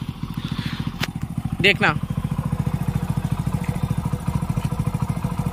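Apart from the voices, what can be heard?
Hero Passion Pro motorcycle engine running, vibrating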